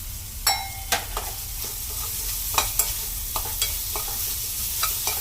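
Curry leaves and coriander leaves fry in hot oil for a garlic pepper rasam, with a loud, steady sizzle broken by repeated clicks and scrapes of stirring.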